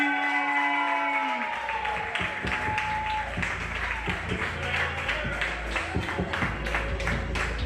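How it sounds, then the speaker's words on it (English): Audience clapping at an open mic night at JAVA as the next artist is welcomed to the stage, a steady busy patter of hands over musical tones at the start, with some talk mixed in. "Please put your hands together, clap it up, and show some love for Tyree."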